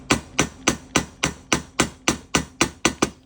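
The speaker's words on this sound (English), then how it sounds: "Sometimes a smaller ball peen hammer, sometimes a bigger one." Ball peen hammer striking metal while working on a rare Maytag engine, about a dozen sharp, evenly spaced blows at a steady rhythm, close and loud, with no talking.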